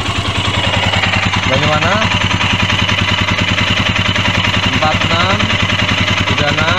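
A Royal Enfield motorcycle engine idles and runs with a steady, clattery thump close by, its altered running note continuous while a person talks briefly over it.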